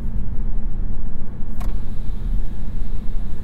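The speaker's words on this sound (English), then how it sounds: "Why do you need sport mode when you can just put the throttle down like that?" A 2023 Volvo V60 B5 accelerating with the throttle pressed down, heard from the cabin as a loud, steady low engine and road rumble with a brief higher whine partway through.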